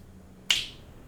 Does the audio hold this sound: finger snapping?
yes